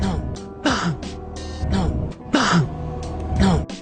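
Coughing and throat clearing from a contestant on a game show, several rough bursts at irregular intervals, close and fairly loud, mixed with voice sounds.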